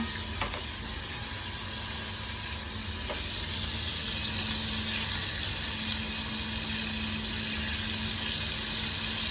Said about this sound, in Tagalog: Dito ko siya pinafry sa maliit na pot kasi para hindi masayang yung mantika.